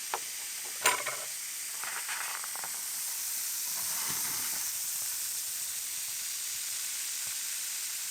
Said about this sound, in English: I think the combination that gave the best fizz was vinegar and bicarbonate